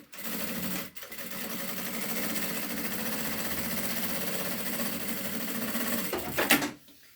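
A sewing machine runs a line of stitching down the middle of a bag strap, one loud, steady mechanical whir lasting several seconds with a brief pause near the start.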